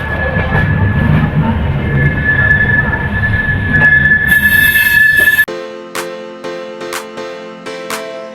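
A train pulls out of Bhopal Junction with a loud, steady rumble and a high, sustained wheel squeal. The sound then drops to a quieter interior hum broken by sharp, irregular clatters.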